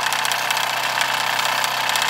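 A Mamod SP4 model steam engine drives a Wilesco toy cement mixer, giving a steady, close, continuous mechanical running sound with a fine even chatter and no pauses or talk.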